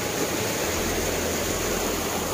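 A small, clear mountain spring stream in rural Central Java flows with a steady, dense rush of water that stays constant, close and fairly loud, with no voices.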